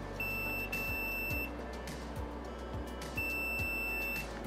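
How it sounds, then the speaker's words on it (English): A multimeter in continuity mode gives long steady beeps as its leads touch shorted capacitors on a Sony TV board, two sustained tones separated by a gap, with light tapping of the probes. "in beep mode, with my leads touching the beep, indicating a short"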